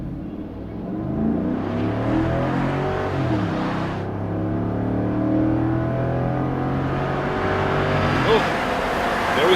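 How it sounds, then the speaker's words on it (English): A Ford F-150 pickup with a 5.0L engine accelerates hard from a standstill at full throttle, its engine note climbing steadily and loud from inside the cab, with a voice speaking briefly. "I'm just gonna floor this bad boy and see how fast it'll go on its own."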